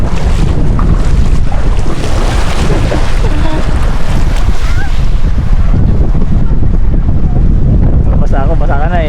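Strong wind on the beach at Rapid Bay batters the microphone in loud, continuous rumbling gusts, mixed with surf washing nearby, while people talk over it.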